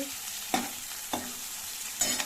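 Tomato curry frying quietly in a pan, a low steady sizzle broken by three soft stirring scrapes spaced roughly half a second to a second apart.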